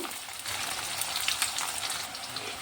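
Chopped onions fry in hot oil in a pan for a chicken curry and are stirred until brown, making a steady, close, bright sizzle that runs the whole time without any voices.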